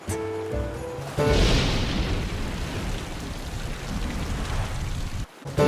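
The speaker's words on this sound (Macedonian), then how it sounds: "Леле, што убаво ни дојде ладниот дожд." Heavy rain pours down in a dense, steady hiss that starts suddenly and keeps going, loud and close, with no voices.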